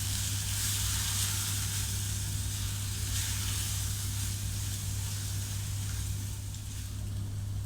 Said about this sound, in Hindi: और ये कश्मीरी लाल मिर्च और केचप, इसको तकरीबन हम 2 से 3 मिनट के लिए भून लेंगे